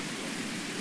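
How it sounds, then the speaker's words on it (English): Rain in the strategy video game Hearts of Iron IV falls as a steady, dense hiss, loud and even throughout with no pauses and no talking. "It's raining here."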